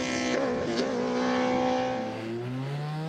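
A Dallara MN01 single-seater race car climbs a hill-climb course, its engine holding a loud, steady high whine before the pitch drops as it shifts and pulls away.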